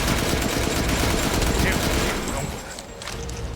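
Gunfire from guns in a video game: a dense, continuous fusillade of rapid shots, loud and close, easing slightly toward the end, with game sounds and voices mixed in.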